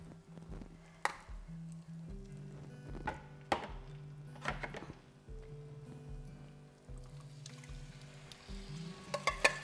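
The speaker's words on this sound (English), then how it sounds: "I'm going to pop the fish in and just kind of brown the fish off in a little bit of the spice" Pieces of fish browning in spices in a pan before coconut milk is added, a soft crackle and patter of frying with occasional knocks and thunks as the fish is moved, fairly quiet and close.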